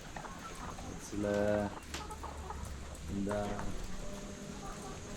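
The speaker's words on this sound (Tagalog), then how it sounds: "Galing yung mga manok to, mga puti no." White laying hens on a Filipino poultry farm cluck in two short, moderately loud bursts, one near the start and one later, over steady background noise with someone talking.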